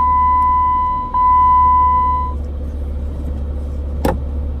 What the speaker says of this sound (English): Let the Jeep warm up.